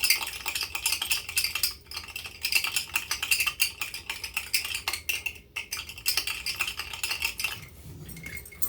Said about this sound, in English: So I'm just getting all the strings off here.